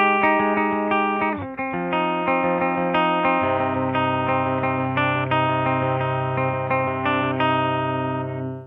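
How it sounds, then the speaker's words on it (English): Heavily distorted Schecter electric guitar with Apocalypse pickups on the bridge position, playing a metal riff, with sustained chugging chords and lead notes, loud and close, no talking. "that's going to be my guitar for this song in the bridge position"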